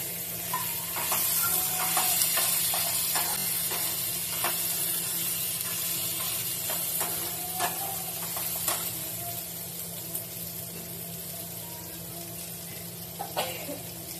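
Tomatoes dropped into a hot pan for a Marathi-style matar paneer curry, giving a steady watery sizzle and hiss with scattered crackles and light stirring clicks throughout.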